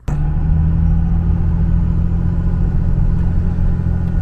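A 2nd Gen Dodge Cummins diesel truck driving along, its engine giving a steady, loud low rumble with an even drone and no voices.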